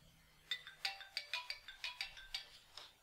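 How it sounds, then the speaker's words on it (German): A mobile phone ringtone sounds alone: a bright electronic melody of about nine quick chiming notes in a steady rhythm, fairly close and clear over a quiet background. "Toll, das ist jetzt mein Handy, das ist natürlich ungünstig."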